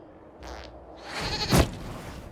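A goat bleats in Dragon Age: Inquisition, a short nasal cry swelling near the middle and fading, set against quiet game ambience.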